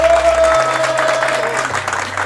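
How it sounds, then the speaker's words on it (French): Applause fills an indoor event as a player is announced to a team selection for a Battlefield 4 all-star squad, a dense continuous clatter of clapping with a steady tone and low hum beneath. "Un tonnerre d'applaudissements pour Sylvain"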